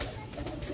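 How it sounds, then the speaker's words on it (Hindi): Heera Lal pigeons give a brief, soft coo close by, a single low throaty call with faint background noise. "ये जी हीरा लाल कबूतर थे प्योरिटी में, 8 से 10 पीस हैं"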